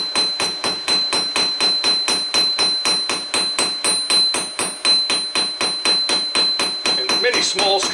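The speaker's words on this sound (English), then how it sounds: "making sure that your hammer is actually striking perpendicular to the axis" A forging hammer strikes hot round and flat stock being drawn to a taper in a steady stream of quick, ringing metallic blows. They fall at an even, rapid rhythm, loud and close, with no voices.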